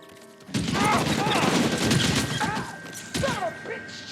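Gunfire in the L.A. Noire video game, a shootout: a sudden onset of dense, rapid close shots and crashing impacts rattling on for several seconds, a fresh burst near the end, with shouting voices mixed in.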